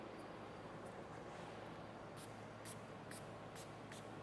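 Blue Collar 9 spray coating misted onto a car surface: several short, sharp hissing spray bursts in quick succession over a constant low background rumble, moderately close, with no talking.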